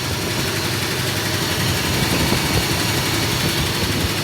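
The engine of a 1971 Ford F250 pickup truck runs steadily at idle, a continuous close rumbling drone with a slightly knocky texture and no talk over it.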